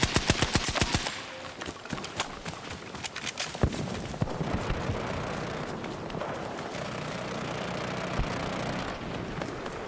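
Rapid video-game gunfire aimed at the player: a sharp burst of closely spaced shots up front, then scattered single cracks over a steady rumbling din.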